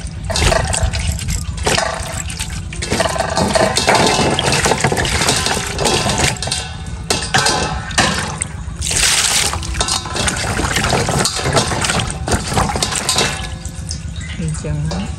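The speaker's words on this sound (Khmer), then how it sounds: "ដាក់ក្រសាំងយើងលាងស្អាតដើម្បីអស់ជាតិខ្ជុំ" Water splashes and trickles continuously as krasang (wood apple) fruit is washed clean for a Cambodian sour soup, loud and close, with swirling pours and dribbles throughout the stretch.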